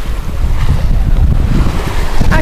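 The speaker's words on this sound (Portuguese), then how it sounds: "Hoje estou na belíssima praia de Quia, na Ilha da Sardenha, Itália." Waves and wind at Chia beach on Sardinia, Italy: a steady, loud surf roar with wind buffeting the microphone, continuous throughout with no voices.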